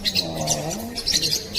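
A small parrot at Parrot Mountain in Pigeon Forge, Tennessee, giving short, close, bright chirps and squeaky calls in a brief burst, with no talk over it.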